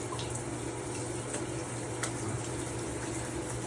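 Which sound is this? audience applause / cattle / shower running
shower running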